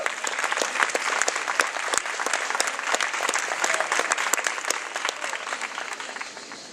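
An audience applauds four performers of a French stage piece, a full, crackling round of many hands with sharp individual claps standing out, holding steady before tapering off at the end.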